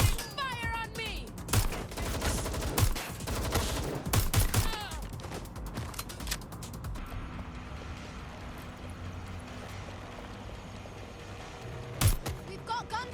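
Watch Dogs Legion firefight with rapid volleys of gunshots and automatic bursts packed densely at first, then thinning to a quieter rumble with one last loud shot near the end; voices speak faintly beneath.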